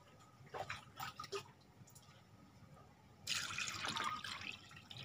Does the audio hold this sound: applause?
no